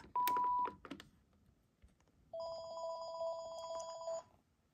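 A cordless phone handset rings on its own, first a short burst of tones and clicks, then after a pause a sustained electronic warbling ring lasting nearly two seconds, loud and close.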